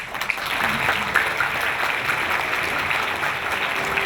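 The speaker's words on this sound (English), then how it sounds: "Please give him another round of big applause." An audience applauds after a speech at a formal ceremony in Myanmar, a steady, moderately loud wash of clapping from many hands that continues evenly throughout.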